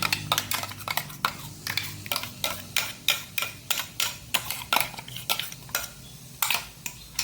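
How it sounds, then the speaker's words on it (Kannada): A utensil scrapes and taps steadily against a vessel as thick dosa batter is moved into it, giving a quick, regular series of sharp clinks and scrapes close up. "ಈಗ ಒಂದು ಪಾತ್ರೆಗೆ ಇದನ್ನು ಶಿಫ್ಟ್ ಮಾಡ್ಕೊಳ್ಳೋಣ."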